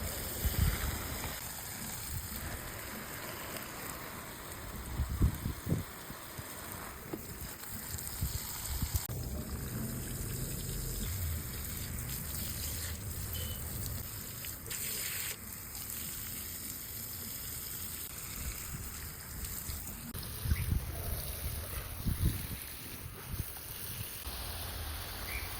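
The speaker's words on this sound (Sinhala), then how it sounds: "උයල ඉවර වෙලා අපි ගියා පැලවලට වතුර දාන්න." Water gushes and splashes steadily while garden plants are watered outdoors, a continuous close pour with insect buzz and occasional louder bursts.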